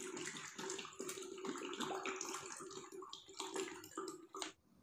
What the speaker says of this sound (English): Again I pour 1 liter more water